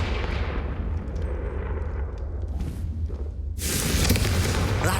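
In the Hogwarts Legacy video game, a Confringo fire spell goes off with a heavy, rumbling blast, followed by a sudden bright burst of fiery crackling noise near the end.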